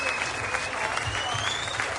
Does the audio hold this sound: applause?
yes